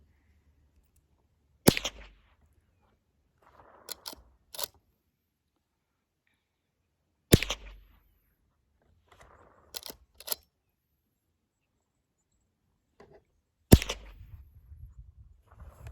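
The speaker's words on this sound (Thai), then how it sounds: "เสียงเสียงจุดสองสองปืนยาวไรเฟิลจะเป็นแบบนี้ค่ะ" Three widely spaced groups of sharp .22 rifle shots, each a loud crack followed by a quick second pop, with quiet pauses between.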